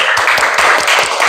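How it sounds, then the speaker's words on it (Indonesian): Classroom of students clapping for a classmate, loud close rhythmic handclaps in quick even beats. "Tepuk tangan untuk Krisna."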